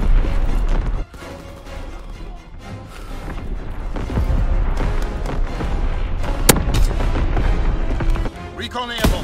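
An artillery barrage in the Call of Duty WWII video game, with dense repeated booms and blasts piling up loud and continuous, with a voice briefly heard amid the explosions.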